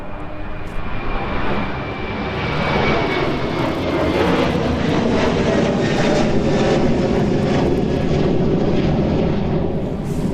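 An aircraft takes off from the runway at East Midlands Airport in the evening, a loud, swelling engine roar that builds and holds close by, with a faint voice briefly heard.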